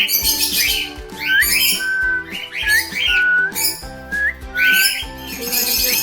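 Pet birds chattering and calling together at close range, with dense overlapping whistles, squawks and rising tweets sounding continuously and loudly.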